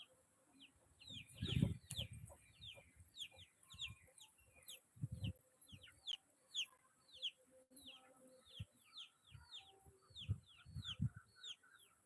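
Chickens cluck and chirp repeatedly in a busy farmyard chorus, several birds close by, with occasional louder bursts and no talking.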